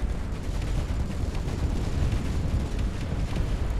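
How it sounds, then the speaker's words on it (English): Gatling cannons firing in the space game Space Engineers, a dense, continuous rumbling barrage of rapid booming shots at a loud, steady level with no pauses and no talking. "I'm going to tell my Gatling cannons to stop, because right now they are just wasting weapons"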